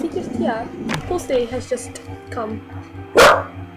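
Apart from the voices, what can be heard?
dog barking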